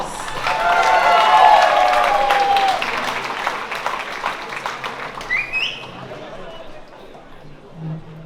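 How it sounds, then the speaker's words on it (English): Wedding reception guests applaud warmly for the couple's parents, a strong burst that swells, then fades into scattered clapping and quiet room sound. "Please give them a huge round of applause."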